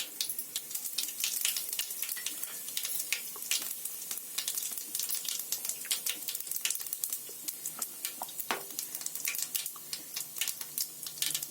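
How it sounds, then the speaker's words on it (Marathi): Steady crackling sizzle of cumin seeds frying in hot oil after mustard seeds, dense popping and spitting throughout with no voices. "जिरा पण मस्त फ्राय झाले आहे"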